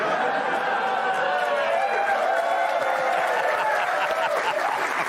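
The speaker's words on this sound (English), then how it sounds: "Hold your applause." Studio audience applause from a talk show crowd, steady dense clapping mixed with cheering and crowd noise, sustained and fairly loud throughout.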